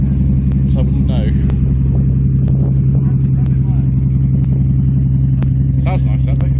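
A classic car engine idles with a deep, steady rumble at the Goodwood Retro Rides Weekender, loud and near, while people chatter in the background.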